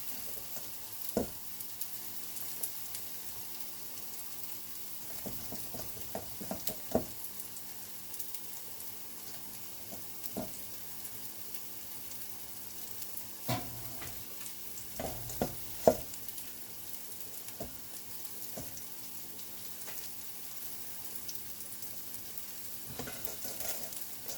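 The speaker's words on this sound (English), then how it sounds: "I'm going to start popping the balls in because there's definitely a sizzle in there now." A steady, quiet sizzle of pork balls frying in a pan throughout, broken by scattered faint clicks and taps.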